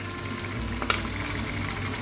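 Canned tomatoes and tomato paste going into a frying lamb stew, a soft continuous sizzle with one brief clatter of stirring midway, close and fairly quiet with no talk.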